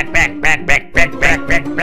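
Plump, well-fed ducks quack loudly and close by, about seven nasal quacks in quick, regular succession within two seconds.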